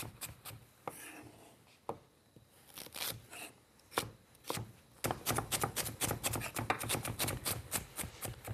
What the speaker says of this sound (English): While we're chopping these vegetables